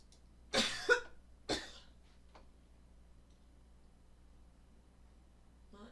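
Three short coughs in quick succession, close and fairly sharp, followed by a quiet room with only faint background hiss.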